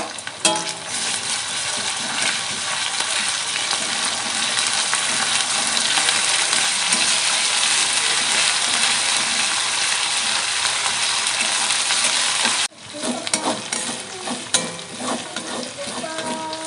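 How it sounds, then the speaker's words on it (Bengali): Ginger and garlic paste fry in hot oil for a Bengali chicken and potato curry, a loud, continuous close sizzle with stirring that briefly dips near the end, then resumes. "আদা রসুন ভালো করে ভাজা হয়ে গেছে"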